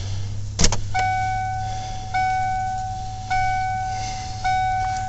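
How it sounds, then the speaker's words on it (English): A car with a dead battery being jump-charged from another car cranks slowly and weakly on a cold start, with a repeating drawn-out whine in slow cycles over a steady low hum, close by. "Oh, we got a real low, weak crank."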